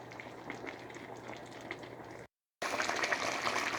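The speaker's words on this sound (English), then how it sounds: "the pot is boiling hot, which pretty much means everything's cooked" A pot boils on the stove with sweet rice and bamboo-leaf wraps cooking inside, giving a steady bubbling hiss that cuts out briefly and then returns louder, with no talk.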